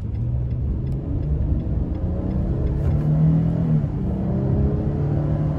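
A 2022 Nissan Frontier S pickup engine pulls steadily under acceleration, heard from inside the cab as a continuous low rumble and whir that builds slightly, with no talk over it.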